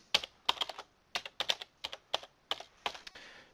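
Close, crisp keystrokes on a computer keyboard as a new password is typed, about a dozen quick taps in an uneven rhythm with brief pauses, no voices.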